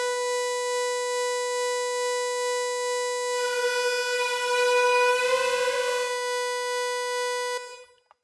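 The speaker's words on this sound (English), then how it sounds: "So maybe we want this really washed out with some reverb." Serum 2 synth oscillator tone drenched in reverb, a steady bright harmonic drone that swells with a washy tail midway, then cuts off abruptly near the end, alone.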